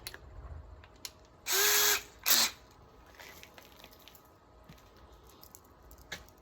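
A power driver sinks screws into sheet metal while a wood stove kit is being installed: two loud, close whirring bursts, each under a second, with faint clicks and handling noise around them.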